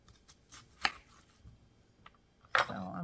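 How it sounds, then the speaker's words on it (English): Knife chopping onion into small squares on a board, with a few sharp isolated cuts and a louder burst of rustling chopping near the end, close and fairly quiet. "Make nice little squares of onion."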